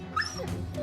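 Dog whimpering in the Battle Brothers video game, a short, close, high whine lasting under a second over faint game background.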